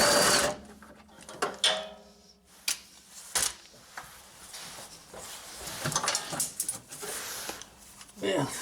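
Ratchet on a long extension loosening a bolt under a 1996-2000 Honda Civic near the rear trailing arm, quick bursts of clicking and metallic clatter in irregular spurts, close by, with someone talking between them.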